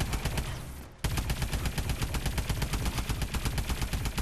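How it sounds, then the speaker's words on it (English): Rapid pistol gunfire in the Call of Duty Advanced Warfare Exo Zombies video game, a dense run of loud, closely spaced shots after a brief lull near the start. "Take these guys out with the pistol."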